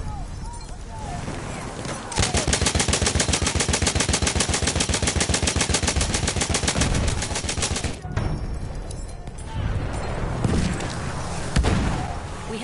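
A long, loud, sustained stream of close machine-gun fire in Battlefield 1 rattles for several seconds, followed by scattered shots and distant booms.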